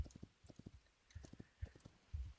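Horse hooves clip-clopping in the video game Hytale, a steady run of close, distinct hoofbeats in short bursts with brief pauses between groups.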